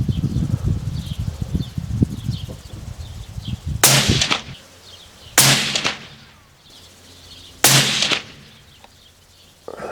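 A Springfield Armory 2020 rifle fires Aguila 129 grain soft point rounds outdoors, three loud, sharp shots spaced a couple of seconds apart, each with a short echoing tail, over insect and bird background noise.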